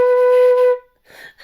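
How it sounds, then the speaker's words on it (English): Flute played with a shallow breath and throat tension gives one short, close, bright note lasting under a second, followed by a faint breathy puff. "if I take that breath even a little bit too shallow, and then I try to help it out with my throat"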